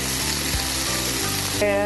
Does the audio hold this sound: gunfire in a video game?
no